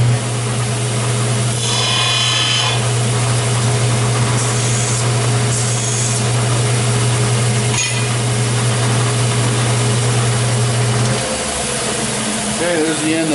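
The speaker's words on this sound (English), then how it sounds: "So I'm going to go ahead and cut this wrench" Power tool cutting through a steel wrench in a workshop, a steady whining grind that runs for several seconds and then stops, loud and close.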